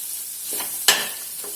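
Vegetables sauté in a pan with turmeric and salt for an Indian-style cheese pasta: a steady soft sizzle, then one sharp scrape of a spoon stirring partway through, close and fairly quiet.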